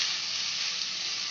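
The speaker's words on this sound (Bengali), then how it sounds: "ভালো করে নাড়াচাড়া করতে হবে এবার" Hakka noodles with egg tossed in a pan over a high flame give off a steady, loud, close sizzle with no break, and no stirring strokes stand out from it.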